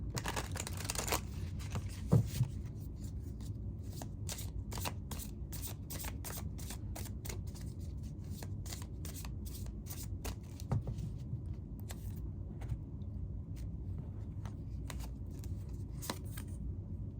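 A deck of Oracle of the Radiant Sun tarot cards is shuffled quietly up close, giving a long run of soft, quick card flicks and riffles against a faint background hiss.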